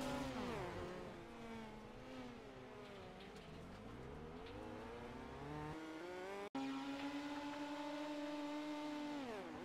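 Midget speedcars race on a dirt oval, several engines snarling together at high revs, pitch rising and falling as the cars pass close and loud, with a brief cut partway before the roar resumes steady.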